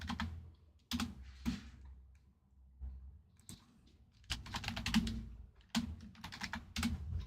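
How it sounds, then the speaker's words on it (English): Someone types on a computer keyboard in irregular bursts of clicky keystrokes with short pauses between them. The typing is fairly quiet, with no talking. "Oh god, I cannot type"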